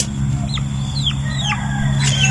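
Chickens cluck repeatedly at a Thai home while dogs are being fed, with three or four close, distinct calls over a steady farmyard hum.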